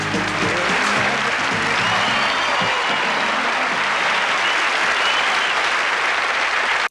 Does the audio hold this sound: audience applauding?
yes